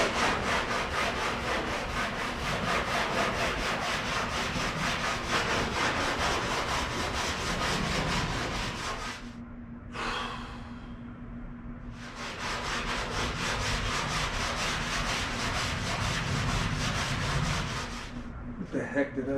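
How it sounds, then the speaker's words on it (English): A 1955 gasser car part is sanded by hand in long, steady, close-up rasping strokes that fill most of the stretch, pausing briefly midway before resuming. "I guess I gotta get up here and start sanding"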